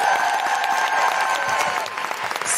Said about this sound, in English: please, can I have a huge, huge, huge round of applause